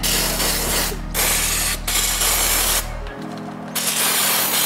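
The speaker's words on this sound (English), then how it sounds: "I'm going to grab my brake parts cleaner." An aerosol can of brake parts cleaner sprays onto brakes in loud hissing bursts with short gaps between them, and a steady low hum of machinery runs underneath.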